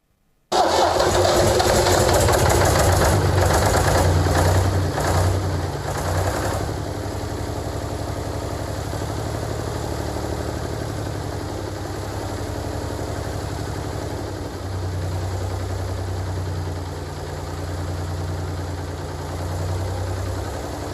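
An engine cranks and catches, revving briefly before settling into a steady low idle that runs on continuously.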